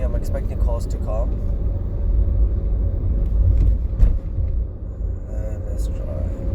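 Car in second gear on a 20 mph road, its engine a steady low rumble inside the cabin, with a person talking over it throughout.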